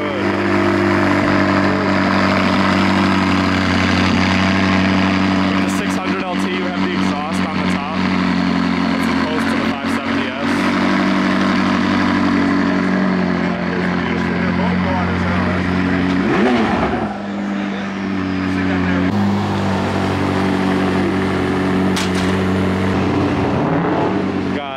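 A new Rolls-Royce Ghost runs with a steady, loud engine and exhaust drone, seen at a dealership, while people talk over it throughout.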